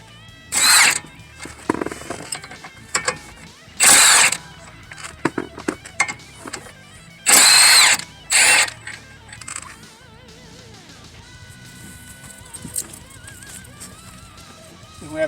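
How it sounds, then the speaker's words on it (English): A power tool spins off the ball joint nuts on a Prius front hub in several short, loud whirring bursts separated by pauses, with clinks and handling noises between them and a trailing rattle at the end. "Now you want to get these ball joint nuts loose."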